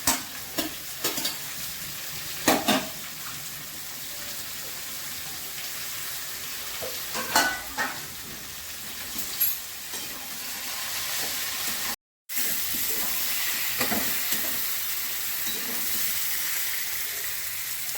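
Jackfruit curry with tomato sizzles steadily in a pan while a spoon stirs and scrapes through it now and then, a continuous close frying hiss with occasional louder stirring knocks.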